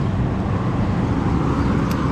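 A Honda Grom motorcycle fitted with a swapped-in Honda CBR300 engine runs at a steady idle, giving a constant low, throbbing engine rumble close by with no talk.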